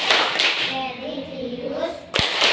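Schoolchildren chanting the PPK clapping routine in a classroom, voices calling out in unison with sharp clapping bursts at the start and again near the end.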